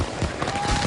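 Fireworks explode in a dense, continuous crackling barrage with repeated booms, loud and close throughout.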